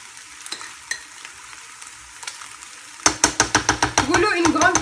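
A pan of sauce cooks quietly with a soft, faint simmer, then a spoon stirs and knocks against the pan in a quick series of loud, close, rhythmic strokes.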